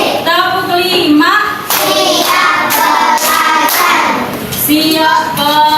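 Young primary schoolchildren in a first-grade class clap hands in a counted pattern. A handful of crisp, bright claps fall between loud, sing-song children's voices that chant throughout.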